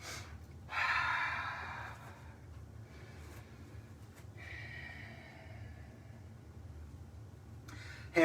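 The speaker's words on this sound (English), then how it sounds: "Cleansing breath." A single long breath exhaled during a yoga class, starting with a loud rushing onset and trailing off, followed by quieter breathing sounds in a calm room.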